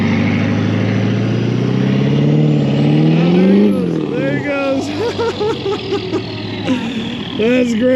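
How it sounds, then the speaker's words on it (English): A truck engine strains loudly and steadily as it tows a stuck Jeep, left in neutral, out of the mud in Texas, the pitch rising and shifting while people talk over it. "I just left the Jeep in neutral, so he just pulled it right out."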